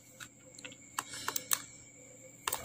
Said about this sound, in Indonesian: kemudian tekan saja delete